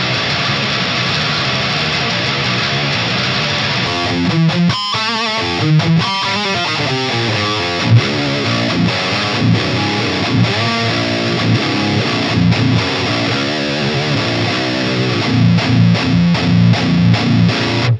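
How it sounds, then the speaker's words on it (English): A baritone guitar with EMG pickups runs through a Tube Screamer into a fuzz pedal, giving a loud, thick, heavily saturated distorted tone with chugging riffs and sustained chords, played alone. "Ravel baritone guitar, EMG pickups. We're going into a tube screamer and then into the Smarve pedal"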